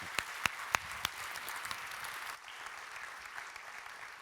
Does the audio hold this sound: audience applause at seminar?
yes